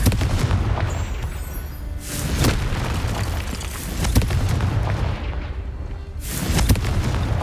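Confringo fire spell blasts in Hogwarts Legacy, several heavy booming explosions recurring every couple of seconds over a dense rumbling, crackling battle din.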